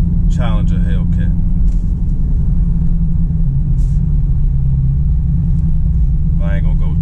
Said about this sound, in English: this is a 2019 wide body Challenger Hellcat